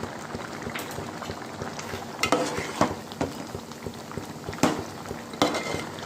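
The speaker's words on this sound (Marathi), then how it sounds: "कोलंबी शेंगांना उकळी आलेली आहे." Prawns and drumsticks simmer in a pot at a steady rolling boil, a continuous close bubbling hiss broken by irregular louder pops and splutters, with no voices.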